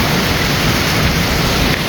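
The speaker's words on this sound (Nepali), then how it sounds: "यहाँ चाहिँ खोला अलिक बेसी बग्दो रहेछ" A river stream flows strongly, a steady, loud, dense rush of water that fills the whole moment with no pauses and no voices.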